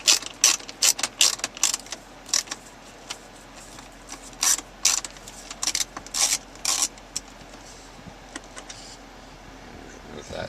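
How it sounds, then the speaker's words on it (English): A screw is backed out of the stereo trim on a Mercedes-Benz GL with a ratcheting driver, giving close, loud bursts of rapid clicking with short pauses between them. "we'll be removing that screw, one below the left side of the stereo, and we're going to remove that screw as well"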